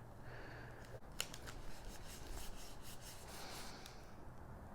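Scissors trim a paper image of a man riding a fish for a steampunk card, faint close snipping and rubbing strokes over a low background hiss.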